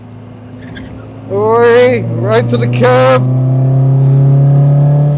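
An old MGB race car accelerates around the Castle Combe circuit with a loud, steady engine drone that rises in level, while a driver speaks over it.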